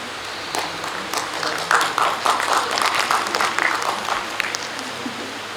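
Audience applause at the MAIMS International Conference (MIC-24): a moderate room of clapping swells and then settles, a continuous patter of hands heard at middle distance.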